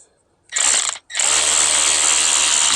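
A power tool set to low torque spins on a motorcycle oil filter, a 2023 Ducati Diavel V4, whirring loud and close in a short burst, cutting out briefly, then running steadily again.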